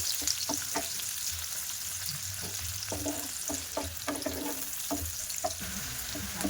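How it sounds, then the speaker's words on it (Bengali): Three medium chopped onions sizzle in hot oil for chicken masala fry, a constant bright crackle close by, punctuated by repeated spatula scrapes and stirs against the pan, with no one speaking. "দিয়ে পেঁয়াজগুলো ভাজা করে নেবো"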